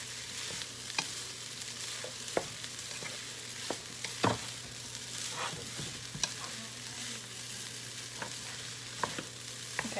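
Vegan fried rice frying in a pan, with a steady soft sizzle broken by scattered scrapes and taps of a utensil stirring the rice, close and fairly quiet, no talking.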